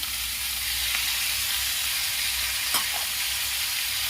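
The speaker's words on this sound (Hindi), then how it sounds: "टमाटर डालने के बाद इसे मैं 5 मिनट गलने तक फ्राई करूंगी, भूनूंगी।" Chopped tomatoes fry with a steady close hiss and sizzle in a pan for a potato and pea curry, broken by one brief stir or scrape and no talk.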